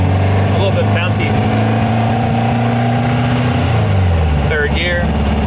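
A modified 1955 VW Beetle with a 2276cc engine drives along, its loud engine note steady and then dropping in pitch as it downshifts near the end, with a person talking over it.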